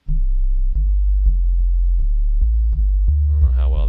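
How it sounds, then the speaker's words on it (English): A deep, low-pitched sine tone from the default Operator synth plays as a steady, loud hum, pulsing with repeated soft clicks as notes retrigger, while a voice begins near the end. "operator in its default form is just a sine wave, and it's a really nice low pitch."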